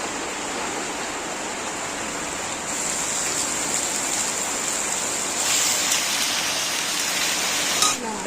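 Rain falls steadily outside a home on a wet-weather day, a continuous even hiss of drops on surfaces that thickens slightly partway through. No speech is heard.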